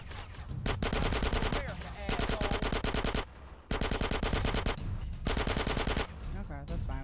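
Rapid automatic gunfire from Grand Theft Auto: San Andreas, loud sustained machine-gun bursts separated by brief pauses, filling nearly the whole stretch with little else audible.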